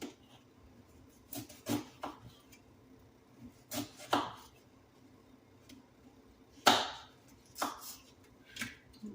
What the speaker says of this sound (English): I'm cutting up this onion